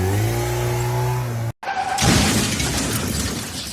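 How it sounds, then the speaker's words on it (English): A motorbike pulls up and revs, its steady engine hum cutting out abruptly before a loud, rough burst of revving roars in close by, with no voices. "When the bike pulls up"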